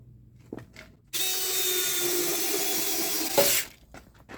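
Power drill bores a hole for a homemade tractor toolbox, a single sustained whirring burst of about two and a half seconds between quieter handling clicks and knocks.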